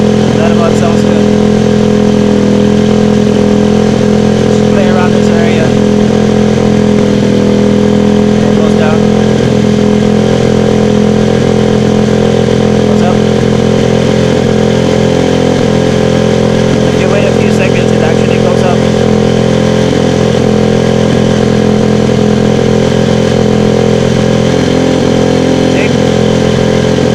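Honda CB110 motorcycle engine idles steadily up close during carburetor tuning, a loud, even drone that holds for the whole stretch without revving.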